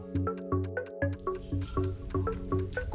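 Water drips from a leaking pipe in a household drainage system, falling in a steady, fairly even rhythm of ringing plinks, a dozen or so in quick succession, close and clear with no talking.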